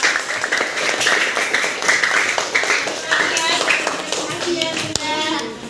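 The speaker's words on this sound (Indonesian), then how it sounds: "Oke, tepuk tangan dong buat Anugrah." Classroom applause for a student during an academic coaching session, a dense burst of many small hands clapping throughout, with children's voices chattering underneath.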